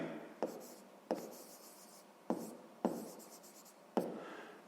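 A pen writing out a math solution on paper, five short distinct strokes with brief scratching tails, close and quiet, in an otherwise hushed setting.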